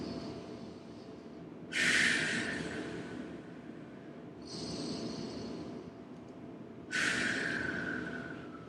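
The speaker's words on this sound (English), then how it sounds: "Breathe in to expand, grow tall. Breathe out, stay tall" Slow, deep breathing during a Pilates workout with a small ball: three long breaths, two of them sharp, forceful, close exhales with a hissing rush and one softer inhale between, over quiet room tone.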